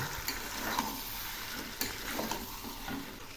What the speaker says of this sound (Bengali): এগুলি এখন আরেকটু কষাবো